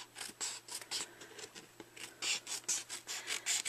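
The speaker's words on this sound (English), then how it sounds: "I'm just going to go in and do a little trimming" Scissors snipping along paper edges while trimming a gift bag, a steady run of close, crisp cuts with short pauses in between and no talking.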